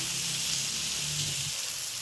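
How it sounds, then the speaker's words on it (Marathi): Finely chopped onion with curry leaves sizzling and hissing in hot oil in a pan for spicy Maharashtrian matki usal, a steady close frying sound with no talk. "कांदा छान परतू द्यायचा आहे।"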